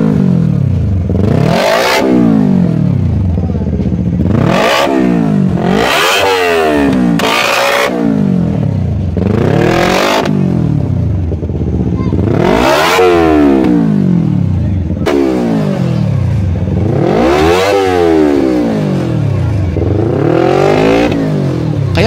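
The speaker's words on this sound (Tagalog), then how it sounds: "isipaparinig ko po sa inyo ang tunog ng kanyang exhaust" Sigma 250cc Eligator motorcycle, a dual-cylinder, radiator-cooled DOHC 8-valve engine, revved hard again and again at close range, each throttle blip rising and falling in a loud, throaty exhaust roar with no talk over it.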